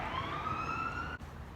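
A passing car's siren gives a faint, thin, rising wail that lasts about a second before cutting off, leaving quiet traffic background.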